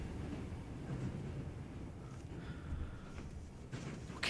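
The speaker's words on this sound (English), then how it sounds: "Train crash?" Rumbling rail noise from a train crash scene in the video game Chains of Freedom, a dense low roar with scraping and a sharp burst near the end, no talk.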